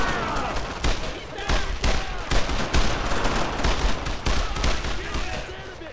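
Dense suppressing gunfire from a World War II squad battle in Brothers in Arms: Road to Hill 30, with continuous rifle and machine-gun bursts crackling close and loud, while voices talk and shout over the shooting.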